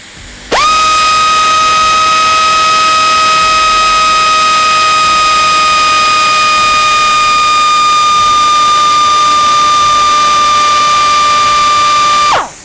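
A Taiwanese-grade pneumatic air die grinder running in a test, a loud, steady, high-pitched whine with a strong tonal hiss that starts abruptly, holds unchanged for about twelve seconds, then cuts off.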